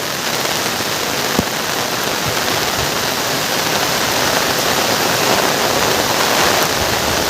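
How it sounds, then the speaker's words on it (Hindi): Heavy rain pouring down in a village, a dense, steady roar of water with no pauses and no voices. "हमारे फिर तो बहुत पानी गिरते संगवारी हो आप मन देख सकते हो।"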